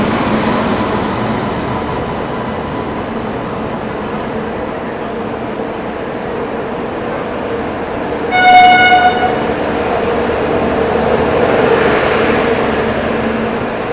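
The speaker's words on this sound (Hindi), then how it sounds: "गुवाहाटी न्यू दिल्ली पूर्वोत्तर संपर्क क्रांति प्लेटफॉर्म नंबर 1 पर अराइव कर रही है।" The Poorvottar Sampark Kranti Express, hauled by a WAP 7 electric locomotive, sounds one clear horn blast while arriving at a railway platform, rising above steady loud rumbling and station noise.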